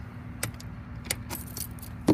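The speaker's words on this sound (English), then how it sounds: "We'll come back round, we'll remove the keys" Keys to an Avon 400DL Seasport RIB jangle with several brief metallic clinks against a low idling hum, ending in a louder close rattle as they come out.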